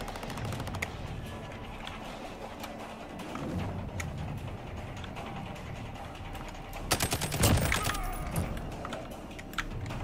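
Gunfire in Call of Duty Warzone, Season 5, mostly sparse, distant shots through a continuous game soundscape, then a louder, denser burst of rapid fire near the middle before it thins out again.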